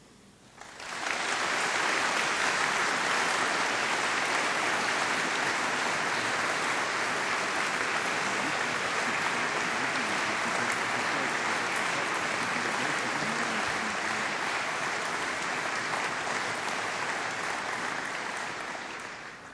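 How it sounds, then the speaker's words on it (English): Sustained applause from a graduation ceremony audience at Cardiff University, starting abruptly and holding steady and loud for nearly twenty seconds before tapering slightly at the end. "giving them all a big round of applause"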